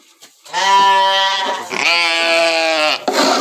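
Sheep bleat loudly and close by, two long wavering calls back to back, as dry bread is handed to them on a farm; no talking.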